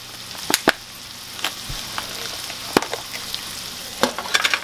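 Peppers sautéing in a pan for a seafood dressing, a steady close sizzle with scattered sharp clicks and scrapes of stirring.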